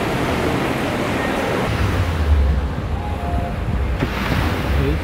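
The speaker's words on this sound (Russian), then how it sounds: "Слушаем шум волн." Ocean surf rolling onto a Miami beach at night, a steady loud wash of breaking waves mixed with wind buffeting the microphone, continuous and close.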